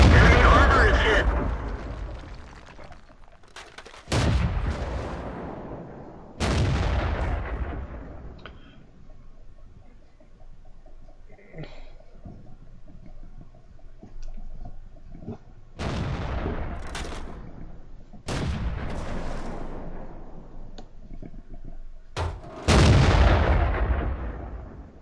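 Heavy tank cannon shots boom in World of Tanks during a Tiger P tier 7 German heavy tank battle against a T-29, about six loud blasts with long decaying tails spread across the clip, separated by quieter engine and battle rumble.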